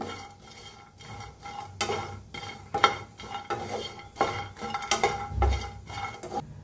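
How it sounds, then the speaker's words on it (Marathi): Grated coconut dry-roasting in a pan, stirred continuously with a spoon that scrapes and taps the metal in an irregular rhythm, close and fairly quiet, with a soft sizzle beneath. "हलवतच भाजायचं नाहीतर करपतंय, एका जागेला जास्त लाल होऊन बसेल, असं हलवतच भाजून घेऊया"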